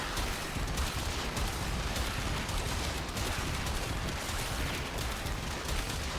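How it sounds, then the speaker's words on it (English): Kuva Zarr firing in cannon mode in the Warframe video game: a loud, dense, continuous barrage of overlapping blasts and booms with no pauses, alone without talk. "And we're going to switch to cannon."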